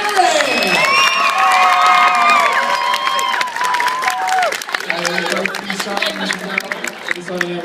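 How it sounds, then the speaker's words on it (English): Convention audience at MCM Midlands Telford 2013 applauding and cheering for guests, a loud sustained crowd roar of clapping and shouts with music tones over it, easing slightly toward the end. "please give a massive round of applause to our Primeval as well as Spearritt!"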